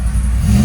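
A cammed GMC Sierra 6.2L V8 with long tube headers and a Valvetronic Designs exhaust given a quick blip of throttle, a brief loud low engine roar close by that rises sharply at the very end.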